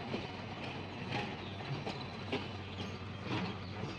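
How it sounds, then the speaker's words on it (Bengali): Nilgiri mountain toy train pulling out of the station, a steady low rumble of rolling wagons with faint clicks and clatter, moderately close and continuous, no talk. "বেরিয়ে গেল ট্রেন"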